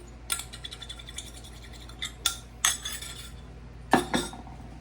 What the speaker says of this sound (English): Let's go and stir these eggs in here